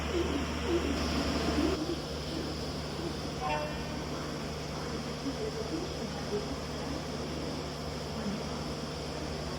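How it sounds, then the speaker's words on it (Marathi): The Konkan Kanya Express rumbles steadily into a busy station during monsoon, with a low mechanical drone, a brief high squeal, and scattered crowd noise and distant voices. "कोकण कन्याचं आगमन झालेलं आहे"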